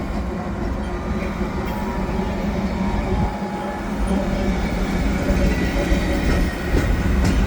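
A loud, close CN freight train powered by seven locomotives, some of them BNSF, rolls through St. Lambert station with a continuous heavy roar of wheels and engines that swells toward the end.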